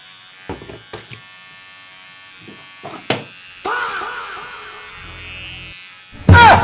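An electric hair trimmer buzzes in short bursts, first a steady hum, then a louder close-up whir near the end, between scattered knocks and brief voices.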